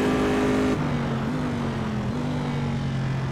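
Corvette C7R race car in Assetto Corsa, its engine droning steadily and loud, with the pitch dropping sharply as it shifts down, then holding and stepping up briefly under braking and turn-in.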